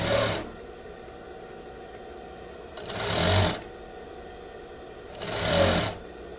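A sewing machine stitches cording onto a bias strip in three short, loud, whirring bursts spaced a few seconds apart, with a low background hum between them and no talk.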